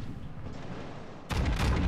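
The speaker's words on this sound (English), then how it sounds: "Now he opened fire" Naval gunfire from a Japanese battleship in a World of Warships-style game: a low rumbling background gives way to a sudden heavy booming salvo that stays loud to the end.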